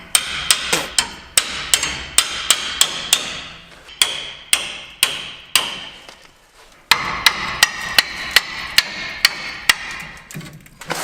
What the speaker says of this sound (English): I'm gonna go in here, tap in our U-bolts